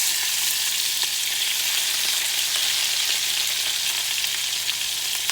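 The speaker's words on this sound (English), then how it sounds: "Cooked in that olive oil and that butter." Pork tenderloin frying in olive oil and butter, a continuous dense crackling sizzle heard up close, even in loudness throughout with no voices.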